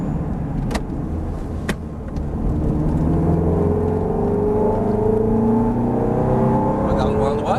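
A Ferrari F430 GT race car on a track, its engine droning steadily and rising in pitch as it brakes into a turn, heard from inside the car under an instructor's voice talking.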